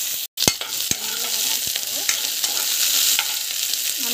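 Oil fries hot in a pan for a mixed green chutney of coriander and mint, giving a constant loud sizzle broken by a few sharp clicks and knocks.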